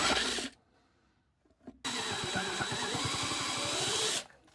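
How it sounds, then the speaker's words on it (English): A power drill whines loudly up close as a bit bores into a plastic car headlight housing during a marker light mod, a short burst, a pause, then a steady grinding run of about two and a half seconds. "Just be careful you're not damaging up the area while drilling."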